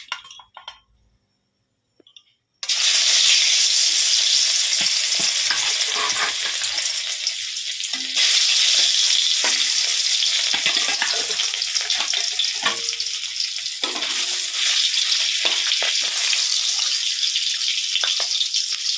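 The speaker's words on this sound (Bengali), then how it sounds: "এদিকে মাছটা ভাজতে দিয়ে দিলাম" Bhetki fish frying in hot oil in a kadai, a loud steady sizzle that starts abruptly after a few quiet seconds and keeps crackling with occasional light clinks.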